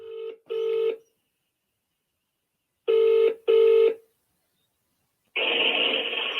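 A recorded phone call rings out with two paired bursts of ringback tone separated by silence, followed by a noisy burst as the line connects.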